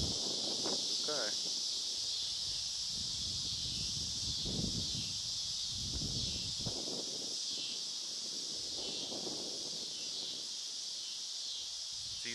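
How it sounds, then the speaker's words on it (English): Wind gusts across an open outdoor spot in Kansas on a windy day, a constant rushing buffet against the microphone, while people talk quietly beneath it. "It's just a windy day."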